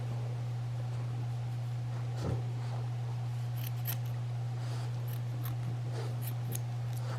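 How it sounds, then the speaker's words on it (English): Scissors snipping through fleece fabric with a few quiet crisp cuts over a steady electrical hum, no talking. "I just went ahead and cut the fleece this way."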